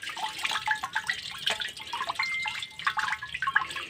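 Water is poured over a wild turtle, giving a steady close patter of splashing and dripping for a few seconds with no talk.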